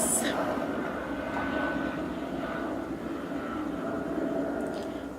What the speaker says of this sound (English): I just start filming in the airplane.